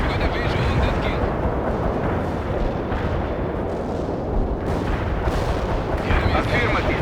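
Carpet bombing by Tu-95 bombers in the game World in Conflict, a dense, loud, unbroken roll of heavy explosions and rumbling blasts, with voices talking over the barrage.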